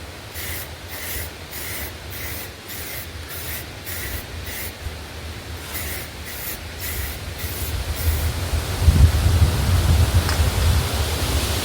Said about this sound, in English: I had to get one of my sprayers.